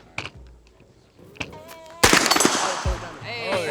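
Pistol-caliber gunfire at a range, shots ringing off steel targets: a few scattered sharp reports early, then a loud dense burst of rapid firing with clanging impacts, with people talking nearby.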